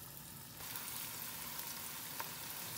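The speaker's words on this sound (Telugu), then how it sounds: "సో స్లోగా ఒక్కొక్కటి వేసుకొని ఫ్రై చేసుకుంటాను." Chicken pieces for chilli chicken shallow-fry slowly in oil, a faint, steady hiss and crackle that swells slightly as more pieces go in, with a small pop partway through.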